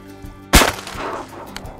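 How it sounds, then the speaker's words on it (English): A single loud shotgun blast close by while duck hunting in the Sandhills, a sharp report with a brief rolling echo trailing off outdoors. "Shoot it. Nice shot."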